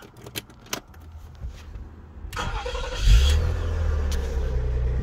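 Keys jangle and click in the ignition of a 2004 MG ZT+ saloon with a 2.5 V6, then the starter cranks and the engine fires into a loud, steady idle.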